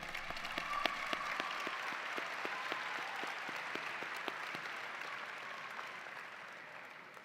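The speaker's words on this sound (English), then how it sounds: "please give a round of applause to all those that have supported you on your way" A large crowd at a Nampa High School graduation ceremony applauds steadily, dense overlapping claps holding for several seconds and fading slightly at the end.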